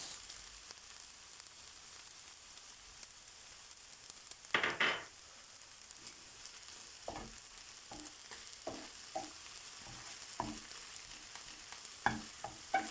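Green beans cooking with beaten egg in a pan are stirred with a spoon: a quiet, steady sizzle broken by a scattering of sharp scraping clicks against the pan, with no voices.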